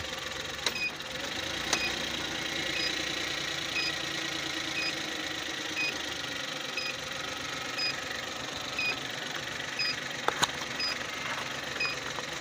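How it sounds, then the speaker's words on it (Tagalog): Suzuki DA64 engine idling steadily with a fault in the fan motor, a constant mid-range hum with faint regular ticking, close up and with no voices. "Ngayon papatayin ko itong makina."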